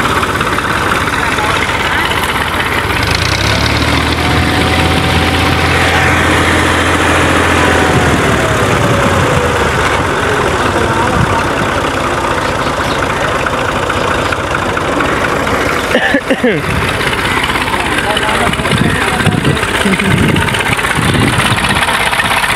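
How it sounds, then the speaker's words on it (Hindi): Tractor engine idling steadily throughout, a continuous low rumble with mechanical vibration, with people talking intermittently over it. "ट्रैक्टर देखो।"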